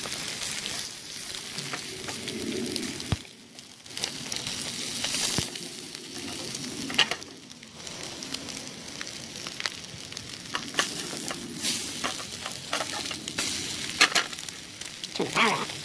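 Eggs fry in a pan with a steady, close sizzle and crackle, broken by a few brief stirring scrapes and short pops. No one speaks.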